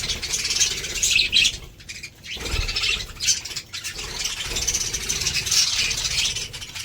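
Small birds chirp and twitter in bursts, fairly close, over a rattling background noise, with no talk.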